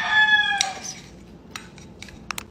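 A rooster crows loudly at the start, followed by a few faint clucks and clinks in a quiet setting.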